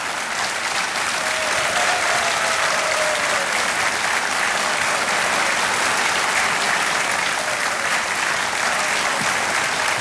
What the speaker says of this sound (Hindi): और तालियां जोरदार से बजनी चाहिए।